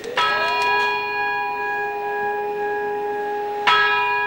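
Church bells at All Saints Church, Ashover, struck once loudly and then left to hum in a long, sustained ring before a second strike near the end, with no talking.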